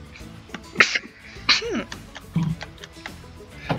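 A person sneezes sharply once, followed by a second smaller sneeze or sniff, close and loud in a quiet room.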